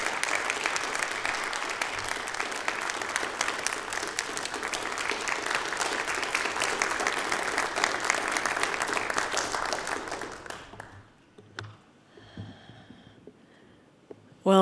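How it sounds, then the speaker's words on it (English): Sustained applause from an audience greeting an award recipient at a Weniger Awards vespers gathering, even and full for about ten seconds, then fading out into a quiet room with a few scattered sounds. "So Andrea, if you would come up as the audience gives you their applause to accept this award this afternoon."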